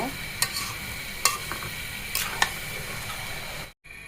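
Olive pickle sizzles steadily in oil over low heat, with a few sharp stirring clinks and scrapes of a utensil against the pan before a sudden cutoff.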